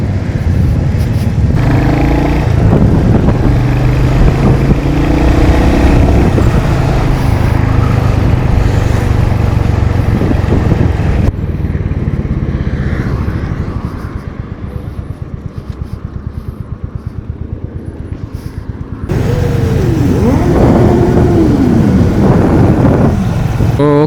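Superbikes pulling away at the end of a breakfast ride, with steady loud engine drone and road noise, a quieter lull midway, then engines rising again as the bikes head off, with some voices mixed in.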